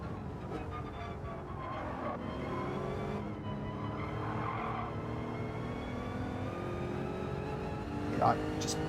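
Tire squeal from a BMW M6 sliding its rear on corner exits in Gran Turismo 7, heard as a steady engine drone with skidding bursts and a short squeal near the end, with people talking over it.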